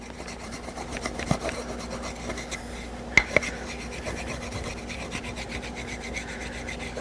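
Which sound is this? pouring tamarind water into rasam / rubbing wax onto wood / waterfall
rubbing wax onto wood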